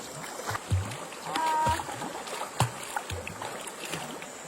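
Water splashes intermittently as a person swims in a clear, cold river in the afternoon, with a few distinct nearby splashes and soft flowing water between them.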